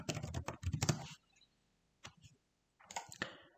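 Bursts of typing on a computer keyboard, as when entering Chinese text, come as rapid clusters of close, crisp key clicks separated by short pauses, with no talking.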